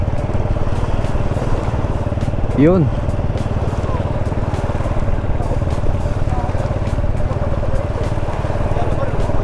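A Honda Wave 110cc motorcycle engine runs continuously as it rides through flood water with the exhaust submerged, a steady close drone with splashing crackle, while a rider speaks briefly.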